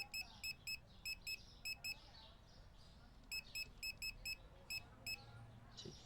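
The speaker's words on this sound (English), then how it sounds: "That was my first alarm." An alarm beeps in quick bursts of three or four sharp, high electronic tones, repeating in two groups over faint background noise.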